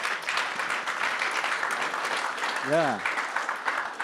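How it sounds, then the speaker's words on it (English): Conference audience applause for presenters, steady clapping throughout with a brief voice rising over it near the end. "Round of applause for all of them"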